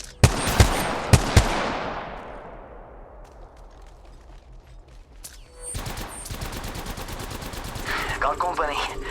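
Automatic gunfire in the Apex Legends video game: several sharp, loud shots in quick succession at the start, ringing into a long decaying tail, then a burst of denser rattling fire with game effects near the end.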